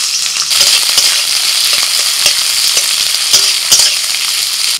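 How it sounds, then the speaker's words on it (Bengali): Sliced onion frying in a pan alongside garlic cloves, a loud, continuous close-up sizzle broken by sharp clicks and scrapes of a spatula being stirred through. "এবার কিছুটা পেঁয়াজকেও ভেজে নেব।"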